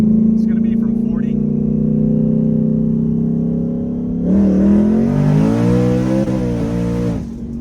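A 1000hp turbo drag car pulls hard from third gear at about 40 on the street, its engine droning loud and close, then surging and rising in pitch as it accelerates, with a voice briefly at the start.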